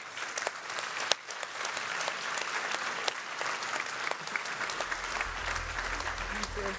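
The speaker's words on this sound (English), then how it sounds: "A round of applause." Audience applause breaks out at the close of a panel at a European awards event, steady crowd clapping throughout with a low hum rising near the end.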